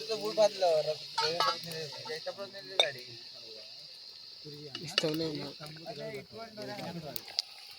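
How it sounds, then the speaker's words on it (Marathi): A spoon stirs chicken curry in a pot at an outdoor village cook-up, giving intermittent metallic clinks and scrapes against the pot between stretches of conversation. "हे बघा पाणी टाकायचं आणि ढवळून घ्यायचं ना रे"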